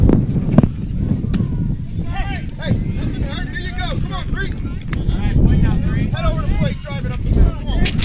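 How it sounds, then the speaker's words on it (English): Wind buffets an outdoor microphone at a high school baseball game, a constant low rumbling roar throughout, with people talking over it. "That wind's picking up again."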